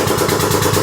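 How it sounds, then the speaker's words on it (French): A motorcycle lift raising under a Suzuki GSX-R 1000 K9 during an engine swap gives a steady, close mechanical hum with a rapid pulsing throb, loud and continuous with no talk. "le pont élévateur monte à 80 cm de haut à peu près"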